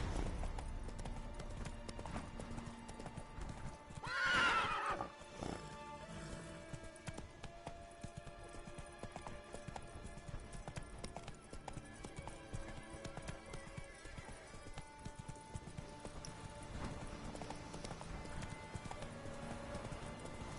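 Roach, the horse in The Witcher 3, gallops with a rapid steady clip-clop of hooves, and one loud neigh rises near the start, all under game ambience.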